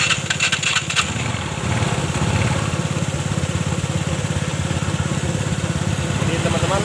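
A Yamaha Mio Sporty scooter engine runs at idle after a CVT roller housing was fitted, giving a steady, loud, continuous rumble with a few light clicks at the start.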